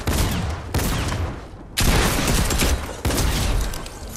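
Gunfire in Fortnite sounds as dense, loud bursts of rapid shots that cut off and restart several times in a few seconds, with no talk over it.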